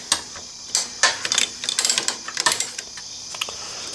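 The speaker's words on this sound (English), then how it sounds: "Take my ratchet and just snug them up" A ratchet snugs up bolts on a Camel ADV Products peg brace for a Honda CRF1000L Africa Twin, producing quick close bursts of clicking with short pauses between strokes.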